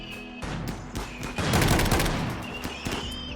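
Gunfire in the colony game Rimworld comes as a run of overlapping, scattered shots and volleys, some sharp and some denser, over a steady background drone.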